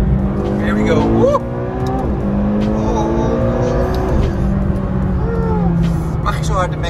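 McLaren GT engine revving, loud rising and falling harmonic engine tones with gear changes and pass-by whooshes, voices talking and cheering over it.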